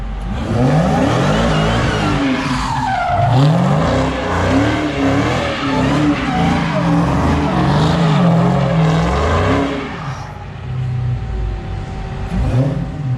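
A Dodge SRT Charger Hellcat engine revs hard and tires screech in repeated squealing bursts, loud and close, before the noise drops off near the end and picks up again.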